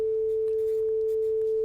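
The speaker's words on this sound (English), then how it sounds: "Yes, that is the bell, guys." A school bell rings before classes begin, a single steady electronic tone holding unbroken and loud from start to finish with no talk over it.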